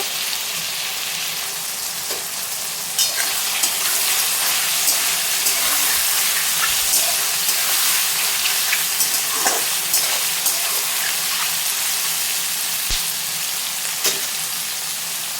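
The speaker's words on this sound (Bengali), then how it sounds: "দিয়ে দিচ্ছি গ্রেট করা আদা তারপরে দিয়ে দিচ্ছি কুচিয়ে রাখা রসুন আর চিড়ে রাখা কাঁচা লঙ্কা এগুলো দিয়ে কিছুক্ষণ ভেজে নেব" Onion, mushroom and capsicum frying with grated ginger, chopped garlic and slit green chillies for mushroom chilli, a loud continuous hissing sizzle close by, with occasional light scrapes and taps of stirring throughout.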